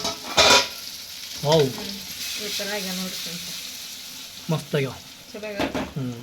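Food sizzles and crackles as it fries in boiling oil, a steady close hiss with occasional louder spatters and brief voices in the background.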